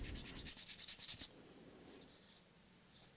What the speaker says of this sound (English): Even with our sandpaper kind of gumming up here really quick